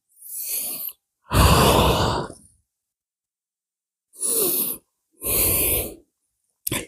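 Slow, deep breaths during a yoga forward fold, heard up close in a quiet room: five breathy inhalations and exhalations separated by pauses of silence, each one soft and airy, with nothing else audible.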